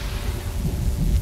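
A thunderstorm in the video game Chaos auf Deponia gives a low, continuous rumble of thunder over steady rain, filling a short stretch with no talking.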